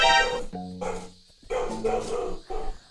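Several pet dogs bark loudly and close by in a rapid, excited series of sharp barks with a few yips, continuing for a few seconds with no talk over them.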